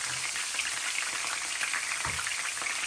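Onions frying in oil over medium heat for a Bangladeshi beef kala bhuna, a steady soft sizzle and crackle that continues throughout, fairly quiet, with no talk.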